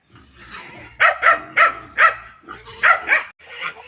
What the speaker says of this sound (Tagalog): Papakainin natin muna yung aso kasi maingay.